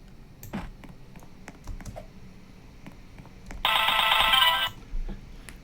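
A short electronic pickup chime plays once as a part is collected in a Roblox game, a bright tone burst lasting about a second amid faint background clicks.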